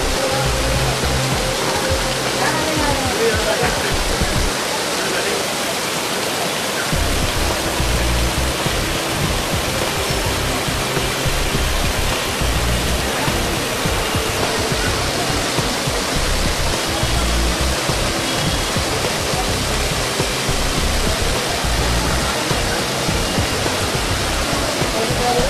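Sulfur spring water pouring in countless streams over limestone rocks at Sahastradhara near Dehradun, a loud, dense, continuous rushing roar with no pauses, close by and filling the whole scene.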